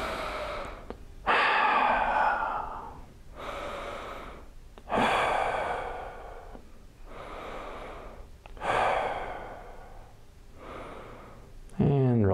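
Slow, deep breaths taken while holding a wrist flexor stretch, each long hissing inhale and exhale repeating in an even rhythm close to the microphone, with no talking over them.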